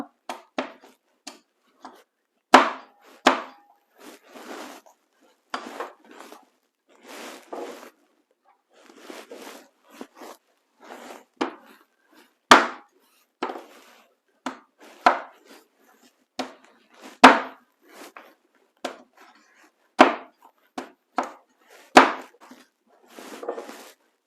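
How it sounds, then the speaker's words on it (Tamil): White pumpkin cut into small pieces for a Jaffna-style curry, a steady series of crisp knife chops on a board, irregularly spaced, close and clear against a quiet background. "இந்த பூசணிக்காயை இப்படி வந்து வெட்டுறேன் சின்ன சின்ன பீஸாக வந்து வெட்டுறேன்"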